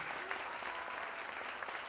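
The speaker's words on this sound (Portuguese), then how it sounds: "Por isso me permitam pedir uma salva de palmas aos reitores das instituições de ensino superior do estado do Ceará." Faint, distant applause from a university ceremony audience honoring the rectors of Ceará's higher education institutions, a soft continuous patter of clapping with no voices over it.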